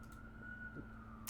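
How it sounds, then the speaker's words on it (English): Emergency vehicle sirens pass outside, a steady wailing tone heard faintly from a distance beneath a low room background. "We got distracted by the sirens."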